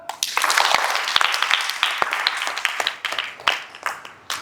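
An audience claps for a beginner dance class, a steady patter of many hands with sharp individual claps standing out, running loud and continuous throughout.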